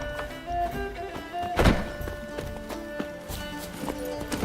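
Roach, the horse in The Witcher 3 video game, gallops with steady clip-clop hoofbeats under game music and ambient sound, with one sharp louder thump partway through.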